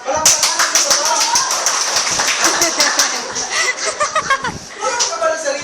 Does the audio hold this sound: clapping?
yes